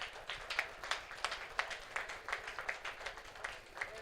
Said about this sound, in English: So I want you to clap.